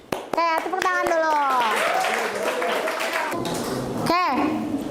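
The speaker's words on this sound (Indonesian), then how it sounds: "Oke, tepuk tangan dulu" Students in a classroom clap their hands together, a brief burst of claps near the start, while children's excited voices and chatter ring out over and after the clapping.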